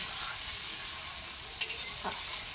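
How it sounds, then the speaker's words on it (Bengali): Tomatoes fry in a pan in an Indian village kitchen, hissing in a steady sizzle. A short splash follows as water is poured in, and another soft clatter comes just after, close and moderately quiet. "জলটা দিয়ে দিচ্ছি।"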